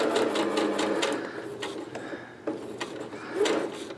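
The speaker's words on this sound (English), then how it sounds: "So I'm going to sew using my 1/4 inch." A sewing machine stitches a quarter-inch seam for an inset Y seam, running in short bursts with brief pauses, a steady close mechanical whir under light clicking.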